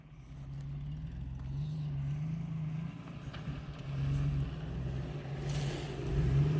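A vehicle engine rumbles steadily at low speed as it creeps forward into a parking spot, with the motor swelling slightly toward the end and no talk over it.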